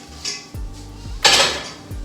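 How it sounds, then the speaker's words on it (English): A heavy metal frying pan clanks down onto a stovetop with a couple of dull thuds and a bright metallic rattle, close and loud. "you're gonna get a big frying pan like thing and set it to low to medium heat"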